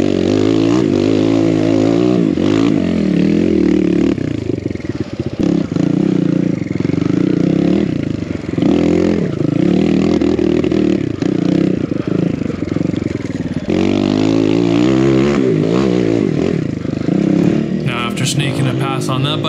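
A Kawasaki KLX170 dirt bike (BBR KLX170RF build) revs and surges on a trail, its engine rising and falling loudly and close with clattering and scraping through the ride.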